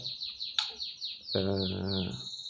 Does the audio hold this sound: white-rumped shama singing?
yes